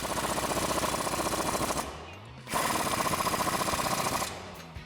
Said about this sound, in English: grab your 24mm socket and tighten down the nuts